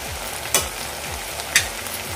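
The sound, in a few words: onions and dry spices frying, soya mince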